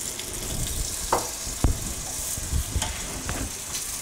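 Stewed beef sizzling in a casserole as wine goes in: constant close frying crackle with a few sharp clinks and a splashy pour, hissing steadily with no speech.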